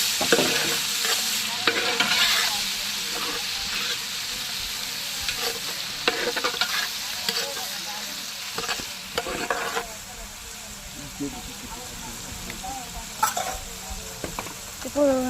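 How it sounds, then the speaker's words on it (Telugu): Curry leaves crackle and sizzle in hot oil with onions in a pan for chicken fry curry, as a spoon stirs with repeated scraping strokes, close and fairly quiet. "కరిమాకు వేసుకోవాలి మంచిగా మళ్ళీ ఒకసారి కలుపుకోవాలి"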